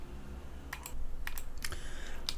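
Keys on a computer keyboard are pressed during 3D modeling work: a few quick, sharp clicks come in small bursts over a low background hum.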